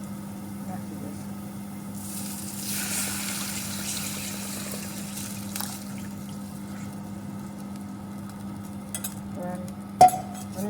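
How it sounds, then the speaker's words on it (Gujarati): A spoon stirs buttermilk dhokli curry in a pot, Kathiyawadi style. Soft, steady swirling and scraping sits close under a low constant hum, with a faint knock near the end. "હલાવતા જ રહેવાનું."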